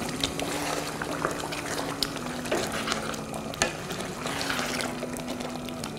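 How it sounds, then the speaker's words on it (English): A thickened potato dish bubbles steadily in a pot, a continuous close hiss of popping bubbles with scattered louder pops and no voice. "It's bubbling really nicely and it's thickened up already."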